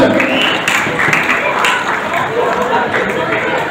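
A political rally crowd applauds in a dense, steady wash of clapping, loud and continuous, with voices mixed in throughout.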